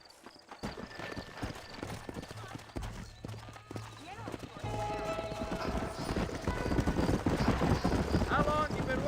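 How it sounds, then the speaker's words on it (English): Horse hooves clip-clop steadily and a horse whinnies in the Red Dead Redemption video game, close and clear, with someone speaking over the game audio. "Vem cá, cavalo."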